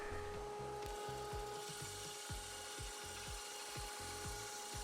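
Hand sawing slots into a wooden V-block for a maple burl box jig, with steady back-and-forth strokes repeating in a regular rhythm, close and fairly loud, no talking.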